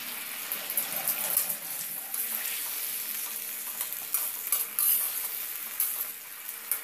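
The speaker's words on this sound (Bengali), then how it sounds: "ক্যাপসিকামটা দিয়ে দিচ্ছি।" Half a capsicum hits hot oil in a frying pan over a gas flame and sizzles steadily, with stirring scrapes and brief crackling bursts throughout and no talking.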